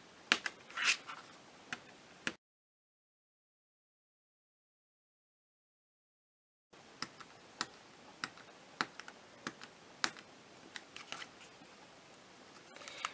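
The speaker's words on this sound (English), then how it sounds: "we're going to take our paper piercer and poke holes all the way around" Sharp, light clicks and pops of a metal paper piercer punching holes in paper on a piercing pad, a steady irregular series close up that pauses in near silence midway before resuming.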